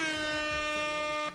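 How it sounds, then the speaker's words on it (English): An air horn sound effect blares one sustained, loud, brassy blast lasting just over a second, cutting off abruptly at the end. "Let me get the air horns real quick."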